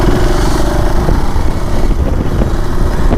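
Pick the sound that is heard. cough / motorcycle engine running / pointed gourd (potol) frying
motorcycle engine running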